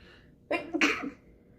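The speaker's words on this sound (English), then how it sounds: "I'm gonna sneeze." A single sharp sneeze, close and fairly loud, with a quick intake followed by a burst, then quiet.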